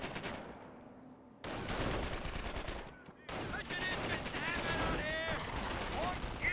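A sniper rifle fires in the World War II strategy game Company of Heroes, with sharp gunshot cracks amid ongoing battle noise and a faint voice in the background.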